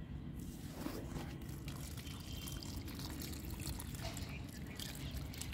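Water poured onto freshly planted mint in a garden bed, a continuous soft splashing and trickling that runs steadily without pause.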